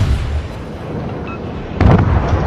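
Warship guns fire in the World of Warships naval combat video game, a loud booming burst rising out of a constant rumbling battle backdrop.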